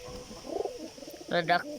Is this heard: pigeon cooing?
yes